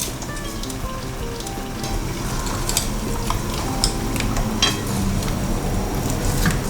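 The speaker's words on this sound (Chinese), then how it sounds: "热一锅水，加点油，把芹菜放进来烫。" Celery blanches in a pot of boiling oiled water, a steady bubbling hiss with faint ticks and light clinks of a utensil against the pot, close and constant throughout.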